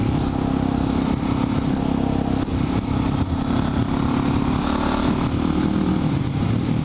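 A Suzuki DR650 supermoto's single-cylinder engine runs loud and close, a continuous throaty rumble with mechanical clatter and slight shifts in revs, no talking over it.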